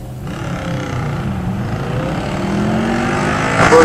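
A pure stock muscle car accelerates hard off the line at a drag race, its engine roar rising steadily and loud with the pitch climbing as it pulls away.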